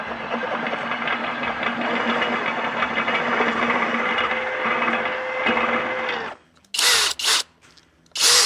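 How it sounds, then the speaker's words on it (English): A step drill bores out a rusted pivot bushing on a Willys, grinding loud and steady for about six seconds before stopping, followed by a few short bursts of the drill spinning back up. "To just drill that out of there."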